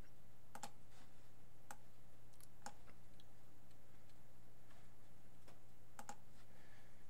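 Sparse, light mouse clicks while tracing points for a scroll saw pattern in Inkscape, scattered irregularly with pauses between them and heard alone over a low steady hum.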